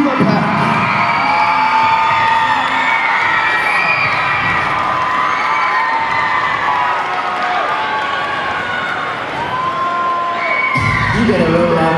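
At a 2014 cheerleading competition, a large crowd cheers loudly and continuously with high shouts, whoops and some clapping. The roar is sustained and close, then swells again near the end.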